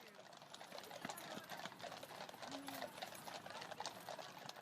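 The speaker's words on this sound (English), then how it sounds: "coming up on your left, we have the Blues and Royals Regiment on horseback" Horses of the Blues and Royals Regiment of the Queen's Guard pass by on a busy London West End street, their hooves clopping faintly in a quick rhythm beneath traffic and someone speaking.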